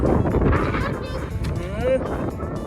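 Gusty wind buffets the microphone with rumbling bursts while someone learns to ride a bicycle outdoors in Utah, and people talk over the blustery noise throughout.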